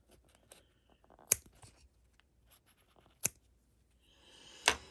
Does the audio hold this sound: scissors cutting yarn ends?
yes